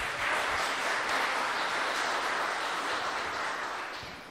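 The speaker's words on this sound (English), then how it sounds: "Let's give them another round of applause." A church worship-service audience claps in a dense, steady roar of applause that holds at an even level before easing slightly at the end.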